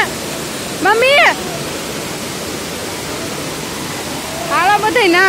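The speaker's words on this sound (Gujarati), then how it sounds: "બાહુબલી જેવો ધોધ પડે જોરદાર" Monsoon waterfall at Jatashankar Mahadev near Junagadh roars as a constant, loud, rushing wash of falling water close by, with a few brief bursts of people talking over it at the start and end.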